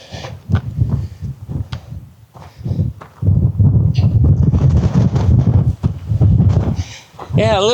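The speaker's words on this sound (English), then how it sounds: "Yeah, a little windy today." Gusty wind buffets the microphone on a Nevada desert trail near an old miner's cabin, loud rumbling bursts that rise and fall, with footsteps and someone talking throughout.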